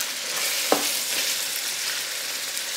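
Meat browns in a very hot pan during a big batch prep, giving off a steady, close, broadband sizzle with one sharp utensil clank near the start and no talking.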